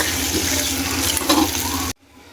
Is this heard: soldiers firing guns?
no